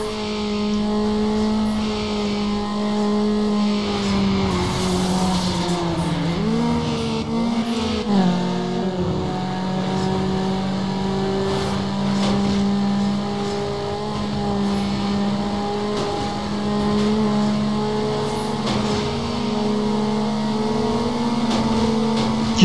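A game car's engine drones steadily during a street race in Need for Speed Underground, loud and close, with a brief dip and climb in pitch midway as the driver shifts, then a long sustained high rev.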